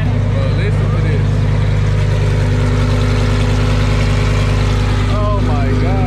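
A Lamborghini Super Trofeo race car engine runs steadily with a deep, loud, continuous drone, while people talk over it in the foreground.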